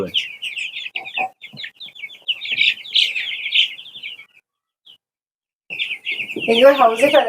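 Many broiler chicks, six days old, peep and cheep in dense, high-pitched bursts close by, with a brief lull before a voice speaks over the chirping.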